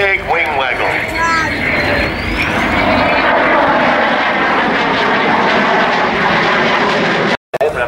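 A B-52 Stratofortress passes at an airshow in Leopoldsburg, its loud, broad engine roar swelling and sweeping across as the big bomber flies by, with a rising whine early on.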